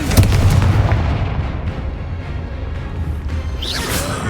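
A Confringo fire spell blast in Hogwarts Legacy, a loud booming impact with a rumbling tail and a whooshing rush that rises again near the end.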